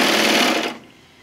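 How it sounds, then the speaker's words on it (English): A serger finishing the raw edge of fabric on a tote bag pocket whirs in a loud, fast, even burst, then stops abruptly, leaving a faint fading hum. "what's interesting about a serger is we use the serger to finish off the edge"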